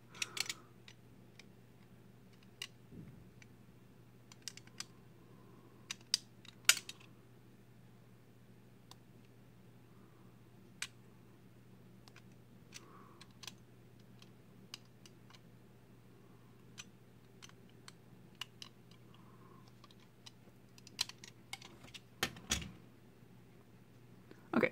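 Small cutting tool snipping through the plastic back of a Nintendo Joy-Con joystick cap for a GameCube-style stick mod: scattered sharp ticks and clicks, close and quiet, over a steady low hum with no talking.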